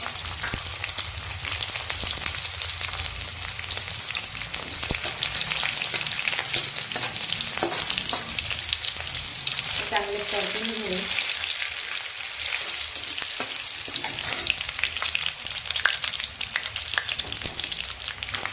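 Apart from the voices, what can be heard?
garlic cloves frying in hot oil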